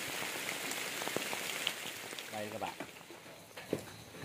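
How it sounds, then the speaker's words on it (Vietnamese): Heavy rain pours down outdoors on a jungle fowl crossbow-hunting trip, a dense, steady hiss filling the whole stretch, with a voice briefly speaking over it. "Mưa to lắm. Giờ đang mưa đây nè."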